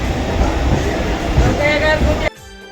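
A passenger train on the Roha–Diva line rumbles along steadily with broad mechanical noise and a faint squeal, then the roar cuts off abruptly near the end.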